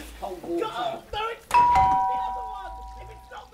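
A two-tone ding-dong doorbell chimes loudly at a house's front door, its tone ringing out and slowly fading after people talk indoors.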